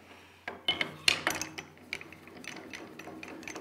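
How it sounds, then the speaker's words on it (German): Tailstock centre removed and a drill fitted on a wood lathe during wet turning of a small alder vase: a string of close metallic clunks, clicks and scrapes, one sharp knock near the middle, then quieter fiddling sounds. "Dazu werde ich jetzt die Reitstockspitze entfernen"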